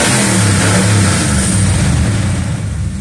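1971 Ford F250 engine with a modified Edelbrock carburetor, revving loud and close, a rough throaty roar that swells and holds without a break.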